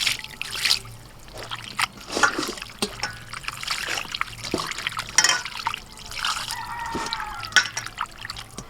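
Food is rinsed under a running kitchen tap, a steady trickle of water splashing and dribbling close by throughout, with brief louder splashes as it is moved under the stream.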